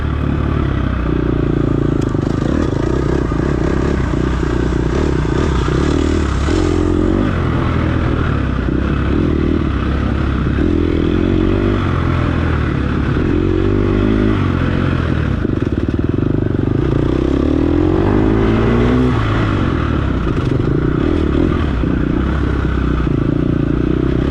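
A dirt bike engine revs hard and steadily during an offroad race, throttle surging and dropping close up and loud, with rattling clatter over the roar throughout.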